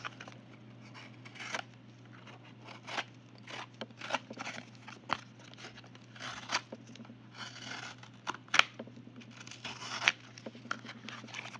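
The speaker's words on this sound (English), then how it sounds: "Let's try cutting something with this knife blade." A small knife blade on a 12-in-1 keychain multitool slicing through cardboard, a series of short scratchy tearing strokes in irregular bursts, close and fairly quiet over a low steady hum.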